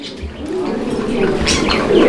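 Fancy pigeons coo in a close, fairly loud loft, with soft low rolling calls overlapping and a few brighter chirps rising through steady background noise.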